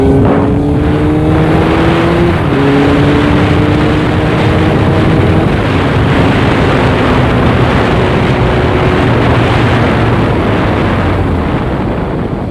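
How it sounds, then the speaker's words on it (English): A 600cc motorcycle rides loud and close throughout, its engine revving through shifting tones and then dropping as the rider brakes hard, with steady wind and road roar filling the whole stretch. "I'll show you just how strong these brakes are."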